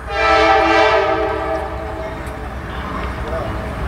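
CSX freight train B705 passing eastbound, led by a loud close horn blast that fades into rumbling railcars, with brief talk over the passing cars.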